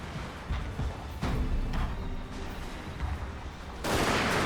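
Rifle volleys in a Shogun 2 Total War battle, muzzle-loading rifles firing against archers, a steady run of overlapping cracks and pops with a louder burst near the end, no talk.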